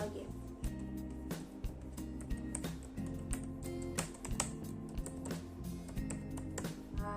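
Typing on a computer keyboard while building a mind map in the Mindjet app, a quick uneven run of clicking keystrokes close to the microphone, with a person talking over them.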